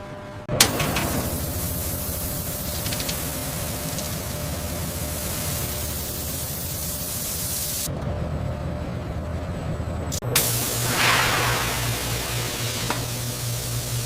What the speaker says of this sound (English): robotic nozzles spray boiling hot, flavored color syrups